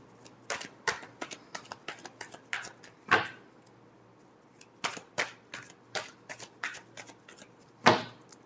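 Tarot cards shuffled by hand, a quick run of crisp riffling flicks with brief pauses and two louder snaps, close and fairly quiet, with no talking.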